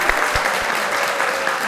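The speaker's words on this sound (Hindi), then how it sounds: "जबरदस्त, तालियां।" A crowd claps steadily and fairly loudly, the applause sustained throughout with no pauses.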